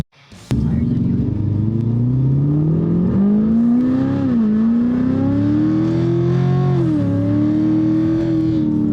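A car with a newly installed stage 2 cam starts up abruptly and drives off, its engine rumbling loud and close as revs climb steadily, dipping briefly at gear changes.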